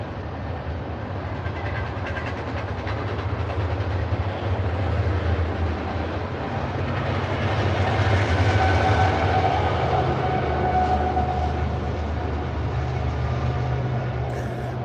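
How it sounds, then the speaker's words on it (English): Long freight train passing, a loud continuous rumble of rolling wagons with rattling and clatter that swells toward the middle and stays heavy throughout. "But that was a loud motherfucker. That was a long train too."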